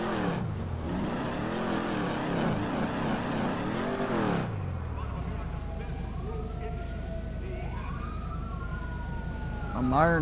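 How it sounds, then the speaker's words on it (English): Police sirens in GTA 5 during a high-speed pursuit: a loud wailing siren with engine roar for the first four seconds, then a fainter sweeping siren wail continuing behind steady road noise. "I'm hearing the sirens all spooling it."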